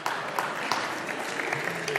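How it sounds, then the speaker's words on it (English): An audience at a church sermon breaks into steady applause, a dense wash of clapping that continues throughout without speech on top. "No, I don't need an applause."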